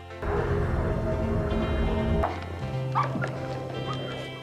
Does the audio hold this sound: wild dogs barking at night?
yes